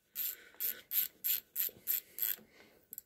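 A ratchet wrench snugs the cylinder head bolts on a Briggs & Stratton Vanguard overhead-valve engine during a head gasket replacement, giving seven short, evenly spaced bursts of clicking, close and clear, with a faint tick at the end.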